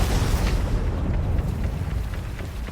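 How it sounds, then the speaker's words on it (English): A big explosion booms with a heavy low rumble that rolls on and slowly fades over a few seconds, loud and close. "That was a big explosion."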